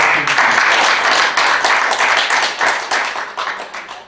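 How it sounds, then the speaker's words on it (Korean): Audience applause at a Korean motivational talk, a dense, steady wash of many hands clapping together, fairly loud and close, continuing for several seconds and tapering slightly at the end. "그분에게 고맙다는 박수 보내주시죠."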